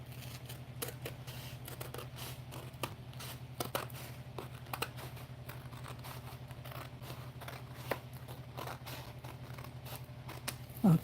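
Scissors cut through a single sheet of parchment paper with a series of short, crisp snips and light paper rustles over a low steady hum, close and quiet.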